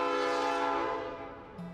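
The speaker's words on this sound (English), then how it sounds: "The Lehigh Gorge Scenic Railway departs from the station in downtown Jim Thorpe" Horn of the Lehigh Gorge Scenic Railway train at the downtown Jim Thorpe station, a loud, sustained multi-tone blast that holds steady then fades over about two seconds, with no talk.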